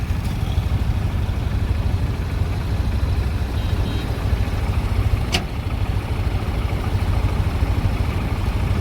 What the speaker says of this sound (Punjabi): ਇਹ ਜਹਾਜ਼ਾਂ ਵਾਂਗੂ ਟਰੈਕਟਰ ਜਾਂਦੇ ਆ ਸ਼ੂਕ ਦੇ ਬੰਨ ਦੇ ਉੱਤੇ